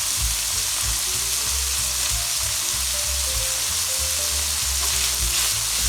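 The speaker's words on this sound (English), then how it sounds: "Add the green onions," Green onions frying with ham in a pan for breakfast, a loud continuous sizzle with rhythmic low scraping and knocking from stirring, no voices.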